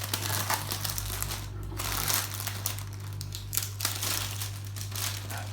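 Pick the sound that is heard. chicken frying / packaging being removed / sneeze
packaging being removed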